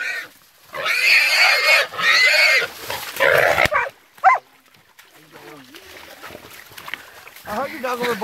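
A hog squeals loudly in repeated bursts while dogs bark and someone shouts nearby, then the squealing fades to scattered yelps and voices.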